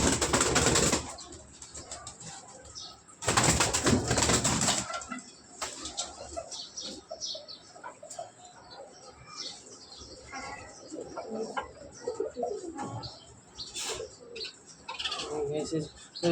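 Racer pigeons close by, with loud bursts of wing flapping early on followed by soft cooing and scattered chirps, while a person talks intermittently in the background.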